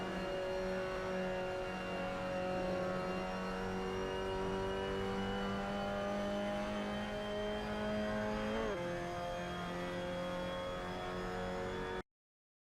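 In the Assetto Corsa game, a Mazda MX-5 Cup car runs at Suzuka with a steady high engine drone, the pitch holding through a long corner, then briefly dipping before it climbs again and cuts off abruptly.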